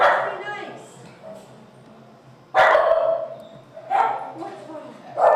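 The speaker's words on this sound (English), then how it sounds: "It's an all-indoor dog run, so the dogs play all indoors." Dogs playing in an indoor dog run bark and yip in loud, echoing bursts, with whimpers between them in a reverberant room.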